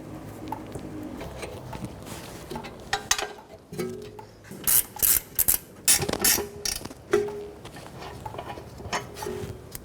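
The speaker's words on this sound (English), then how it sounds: "18mm wrench or socket. I'm going to take those completely off." A ratchet clicks in short, quick bursts while loosening 18mm caliper bracket bolts on a Cadillac Escalade rear axle, close up, with some metallic handling noises between strokes.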